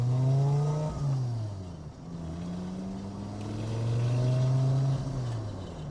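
A Mk2 GTI fitted with a swapped five-cylinder engine is driven hard, loud and close, its revs climbing in sweeping rises, dropping briefly at each shift, then pulling up again, with no voices.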